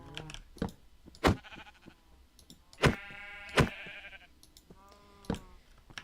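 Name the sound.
sheep bleating in the video game Minecraft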